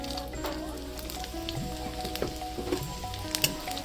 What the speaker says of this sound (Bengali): আমি তেলের মধ্যে দিয়ে দেবো